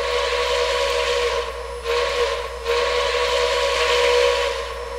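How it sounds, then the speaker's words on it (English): A steam locomotive's primary whistle in the Trainz: A New Era railroad simulator, on an engine such as the Niagara or Milwaukee Road 261, blows a loud, steady, breathy chord for about five seconds with two brief dips, and no voices. "That's the primary whistle."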